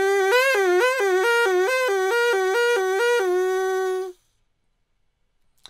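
A breathy, reedy straw flute tone steps repeatedly between two pitches in a quick alternating pattern for about four seconds, then stops, leaving silence.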